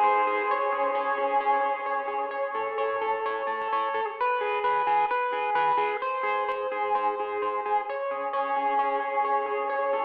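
Sustained electric guitar chords drenched in reverb with a shimmering chorus effect, notes ringing and blending into a washy, spacious tone.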